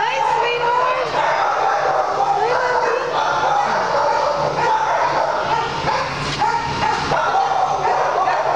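Many dogs bark and yip together at an animal shelter, a loud, continuous, overlapping chorus of barking with some whimpering, and a person's voice under the din.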